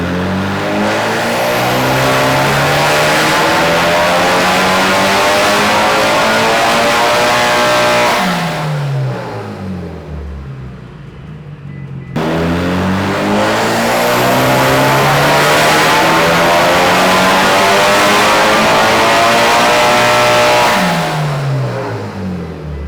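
A tuned Mitsubishi Evo 8 engine screams through two long full-throttle pulls, rising loudly in pitch for several seconds, dropping off briefly, then climbing again at close range with no voices.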